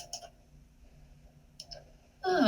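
Two short, crisp computer mouse clicks spaced about a second and a half apart in a quiet room during accounting software data entry, followed by a louder burst of noise at the end.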